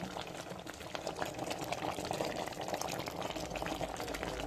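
Steady bubbling and hissing of chicken curry gravy simmering in a pot on the stove, a soft continuous boil with no voices.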